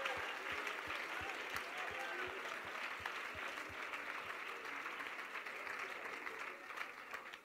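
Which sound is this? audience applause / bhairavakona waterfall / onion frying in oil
audience applause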